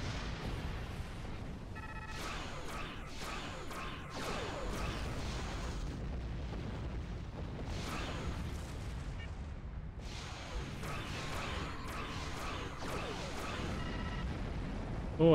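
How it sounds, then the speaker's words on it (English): Heavy plasma torpedo explosions from Star Trek Online burst in a series of sharp, booming hits, some clustered and some spaced apart, over a continuous space-combat background. "Oh, a heavy plasma torpedo."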